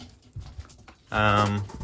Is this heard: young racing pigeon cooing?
yes